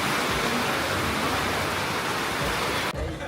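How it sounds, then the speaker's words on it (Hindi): A loud, unbroken roar of heavy rain drums on a tin roof in Himachal Pradesh, steady throughout before cutting off abruptly near the end. "और तेज़ हो गई है बारिश।"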